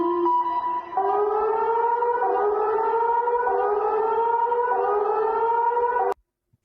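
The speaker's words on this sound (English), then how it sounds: "Sorry, it wasn't an explosion, it was just a siren." An air raid civil defense siren wails steadily and loudly on its own for about six seconds, its pitch wavering slightly, then cuts off abruptly.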